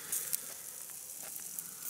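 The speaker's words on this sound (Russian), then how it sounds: "Кругом снег, жарим мяско." Meat fries outdoors on a snowy day, giving a steady close crackling sizzle with a few sharper pops and no voices.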